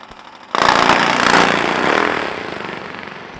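Top Fuel drag racing motorcycle launching during round one qualifying at the AMRA finals, a sudden loud broadband roar that bursts in after a quiet lead-in and holds, then slowly fades as the bike pulls away.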